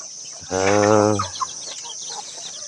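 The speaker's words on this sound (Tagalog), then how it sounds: "tingin tayo sa mga manok" Farm chickens give one loud, drawn-out call lasting under a second, followed by quieter scattered clucks and background farmyard noise.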